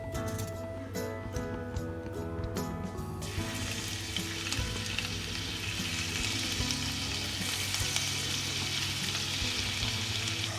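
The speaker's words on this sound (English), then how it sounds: "Now we'll add some ginger garlic paste." Ginger garlic paste hits hot oil that already holds cumin seeds, bursting into a loud, dense sizzle that swells and holds steady, with faint stirring and clinks near the start and no talking.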